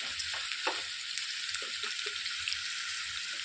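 Finely chopped onions sizzle steadily in a hot pan of oil for a curry, a continuous close frying hiss with small pops and stirring clinks.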